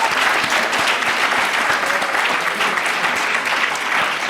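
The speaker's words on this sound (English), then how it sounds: "Can you give these erudite, knowledgeable, historical experts a befitting round of applause, please?" Loud, sustained applause from a conference audience at a university debate summit, dense steady clapping filling the room with no voices on top.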